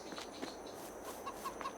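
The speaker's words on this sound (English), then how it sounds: "Check on our chickens." Chickens on a Kubota farm in Farming Simulator 22, a few soft, quiet clucks at a distance over a steady background of ambient noise.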